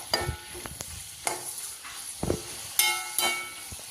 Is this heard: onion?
yes